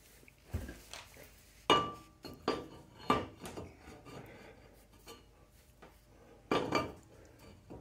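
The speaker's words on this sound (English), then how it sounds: "Next, let's hang a rotor and a caliper on here." A brake rotor and caliper are fitted onto a Mopar 8.75 axle, giving scattered metallic clinks, scrapes and rubbing knocks at close range, quiet and irregular.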